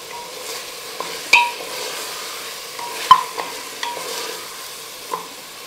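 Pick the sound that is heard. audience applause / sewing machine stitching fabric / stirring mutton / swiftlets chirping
stirring mutton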